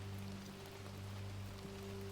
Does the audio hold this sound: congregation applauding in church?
no